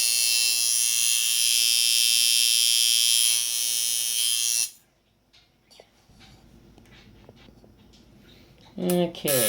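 A powder-coated tattoo liner machine buzzes loudly and steadily at close range for several seconds before cutting off, followed by quieter handling noise and a brief spoken word near the end.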